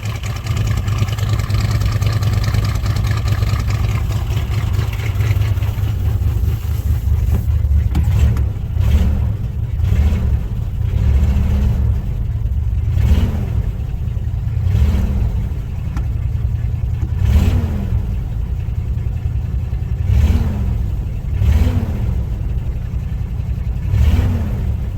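A carburetor car engine running very rich, trailing black smoke, idles roughly near the microphone with a steady low rumble and then revs up in a series of repeated throttle blips, with no talk over it.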